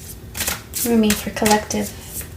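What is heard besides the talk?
shuffling a deck of cards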